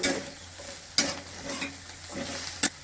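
Bitter gourd (karela) frying in a kadhai gives a soft steady sizzle, broken by a few sharp stirring scrapes from a spatula against the pan, close and moderately quiet with no voices.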